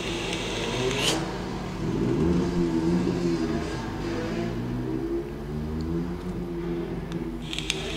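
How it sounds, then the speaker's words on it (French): Motorcycles passing behind, outdoors, as moderate engine drones that swell and fade in two waves, rising and falling in pitch at a middling distance. "va laisser passer les motos derrière là, qui vont polluer ma bande son."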